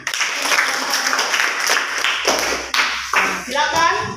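Students in a classroom give a group round of applause, with brisk, dense clapping from many hands lasting several seconds while children's voices chatter underneath.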